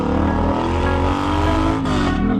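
The exhaust of a Triumph T120 motorcycle revs loudly and close up, a continuous throaty roar with a brief dip and rise partway through and no talking.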